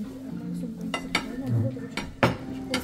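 Dinner plates and cutlery clink together at a table for four in a home kitchen, a series of sharp irregular clinks and scrapes close by, with a voice talking faintly in the background.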